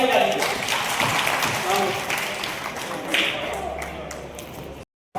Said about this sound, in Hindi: एक बार जोर से तालियां बजा दीजिए।